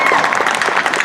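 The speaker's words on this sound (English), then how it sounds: "Let's have a round of applause for the heavyweight champion of the world" A crowd claps and cheers for the heavyweight boxing champion after the Fury–Wilder 3 fight. The burst is short and dense and sounds like a large arena.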